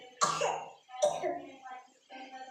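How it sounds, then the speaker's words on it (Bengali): Several sharp, close coughs from one person in a home kitchen while fish roe fritters fry, separated by short pauses, with faint voiced sounds trailing each burst. "কাশি এসে গেছে তার মধ্যে"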